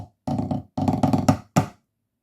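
Marine pipe band snare drum solo 'Illawalla', opening part, played as dense rolled bursts with accented strokes in several short phrases, close and fairly loud, no talking.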